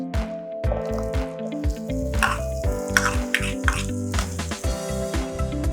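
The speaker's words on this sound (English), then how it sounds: "Let's saute some onions." Onions sautéing in coconut oil in a pan for a South Indian chutney, a steady close sizzle with frequent clinks and scrapes of a stirring utensil against the pan throughout, no talking.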